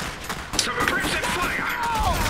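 Battlefield gunfire in the real-time strategy game Iron Harvest, a dense crackle of shots and bursts under in-game voices and effects, moderately loud and continuous.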